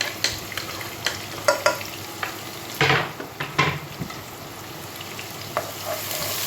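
Chopped onions fry in oil with a continuous crackling sizzle while a spoon stirs them, giving a series of close scrapes and clinks against the pan; no talking.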